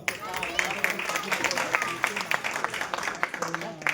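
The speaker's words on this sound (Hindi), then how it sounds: "जोरदार तालियां हो जाए एक बार" Audience at a direct-selling business gathering breaks into loud, dense clapping close by, with steady broadband claps throughout and some voices mixed in.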